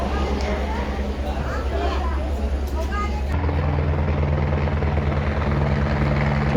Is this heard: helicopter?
yes